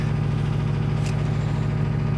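Steady low idle of a Porsche 356 with a new engine and reconditioned gearbox, running on its first drive in four years; an even, close rumble continues without change and no one talks.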